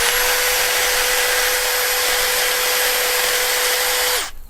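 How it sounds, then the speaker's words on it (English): A power tool machines out holes in a single-barrel carburetor from an old panel truck, running as a loud, steady high whine with a constant pitch for about four seconds before abruptly winding down and stopping. "Having to carefully machine out these holes"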